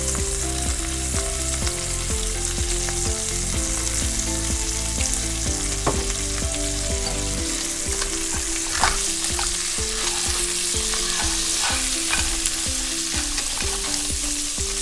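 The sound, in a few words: crab sautéing in pan with Trader Joe's seasoning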